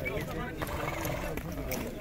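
At a horse market in Bishkek, a horse whinnies amid a busy crowd, with hoof clatter and people talking all around, the calls rising briefly above the murmur of the market.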